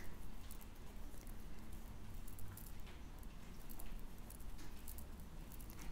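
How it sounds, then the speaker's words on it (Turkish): Rain falling outside, a soft, steady patter with a continuous hiss and scattered light taps, faint and distant throughout. "Yağmur'un sesini duyanlar bir işaret çaksın bana."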